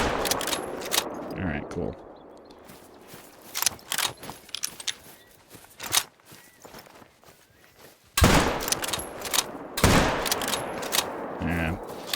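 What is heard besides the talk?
rifle shots in video game theHunter: Call of the Wild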